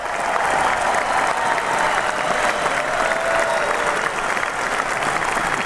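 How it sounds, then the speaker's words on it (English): Steady round of applause from a crowd, dense even clapping sustained throughout at a constant level, with no gaps. "here's a nice round of applause."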